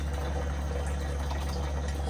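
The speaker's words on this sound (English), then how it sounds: "I'm starting to fill up a 5-gallon jug" Reverse osmosis drinking water from a SimPure T1-400UV system runs into a 5-gallon jug, giving a steady, close rush of filling water with a constant low hum under it and no pauses.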